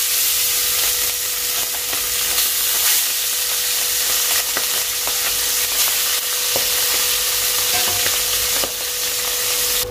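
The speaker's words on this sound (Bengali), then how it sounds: "সবার প্রথমে আমি ট্যাংরা মাছগুলোকে ভেজে নিচ্ছি।" Tangra fish fry in hot oil in a kadai over a gas flame, giving a steady, close sizzling hiss dotted with scattered sharp pops and crackles.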